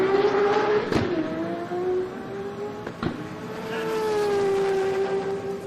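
A drag racing car, a Toyota Supra, makes a pass at a summer drag race event, its loud engine note rising and falling with two sharp bursts as it passes nearby over steady crowd-and-track background.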